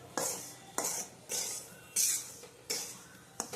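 Sorghum flour is stirred and roasted in a pan with ghee for sukhdi, a Gujarati sweet, with repeated scraping strokes of a spoon against the metal pan at a slow, even pace, close by and without speech.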